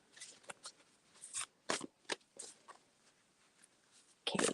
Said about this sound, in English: I'm shuffling for Miss Froggies.